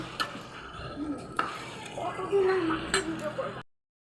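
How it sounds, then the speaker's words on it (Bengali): Meat and potatoes tipped into a cooking pot, with metallic clinks and scrapes of utensils against the pot and a brief soft sizzle, close by, with a person speaking over it. "আমি এখন এই যে মাংস আছে সম্পূর্ণ ঢেলে দিচ্ছি, সঙ্গে আলুগুলোও ঢেলে দেব।"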